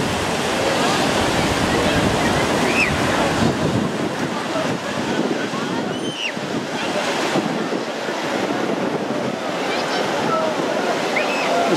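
Sea waves break continuously on a beach at Overstrand during a Boxing Day swim, with a steady loud surf roar, wind buffeting the microphone, and faint distant voices of people.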